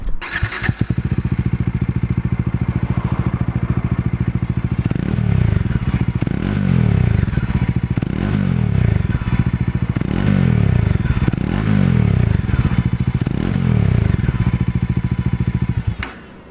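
A Bajaj Dominar 400 BS6 motorcycle starts up, idles with a loud, steady thump, then gets several rhythmic revs in a row before cutting off, recorded close.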